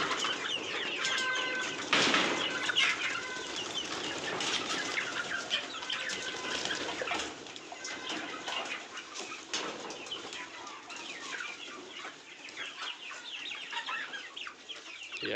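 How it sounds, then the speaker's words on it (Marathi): Fifty native desi country chickens from the Satpura breed cluck and flap their wings in a dense, continuous flurry as they are let loose, with one especially loud burst of flapping near the start and steady chattering throughout. "हे आहेत मित्रांनो आपले सातपुडा गावरांचे 50 चिक्स."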